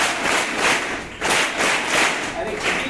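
Schoolchildren clap together in rhythm at a school assembly, a broad wash of hand claps rising and falling in repeated bursts, close and loud.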